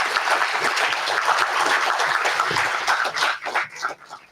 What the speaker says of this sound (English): Please give a big round of applause and welcome him.